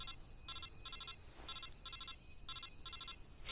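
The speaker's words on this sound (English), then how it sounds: "Oh, I'm getting a phone call." Video game phone ringtone in a Snake game, a high electronic trill in repeated paired bursts, three cycles of two rings each, steady and clear over a low background hum.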